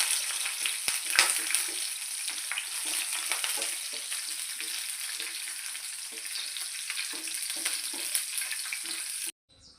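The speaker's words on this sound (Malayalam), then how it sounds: "അണ്ടിപ്പരിപ്പ് മുന്തിരിങ്ങയും വറുത്തെടുക്കാം." Cashew nuts and raisins fry in hot fat for a festive pongal, giving a steady, close crackling sizzle throughout with occasional stirring clatter, ending abruptly.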